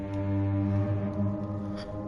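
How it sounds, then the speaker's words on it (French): The Cyclops submarine's horn in Subnautica blares as a deep, steady, loud foghorn-like drone with rich sustained tones, lasting the whole stretch without talk. "Le klaxon?"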